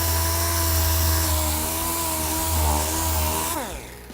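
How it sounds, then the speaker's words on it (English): A power sander works 180-grit Norton abrasive over cosmetic plastic repair filler, a loud continuous whirring drone with shifting pitch that winds down near the end, no speech. "We can sand it. You're gonna start with 180 on this."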